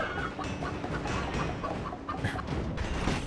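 Chicken clucking in the video game Dead Cells, a busy run of short clucks over dense game music and effects, steady and fairly loud throughout.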